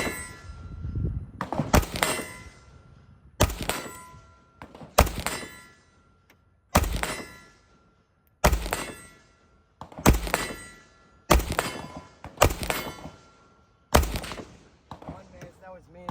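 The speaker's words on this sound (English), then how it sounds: "We're just shooting some standard, just steel case, you know, typical bulk, you know, Russian crappy ammo." An M70 AK rifle fires steel-case bulk ammunition at a long-range target about 120 away, ten sharp evenly spaced shots, each followed by a short echo and a faint distant steel-target clang.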